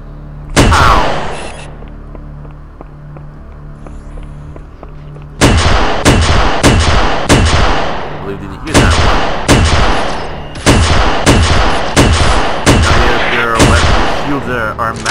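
Weapons fire in the Halo SPV3 mod on The Silent Cartographer level: a sharp burst, then a quiet lull, then repeated loud volleys of rapid gunshots in several clusters.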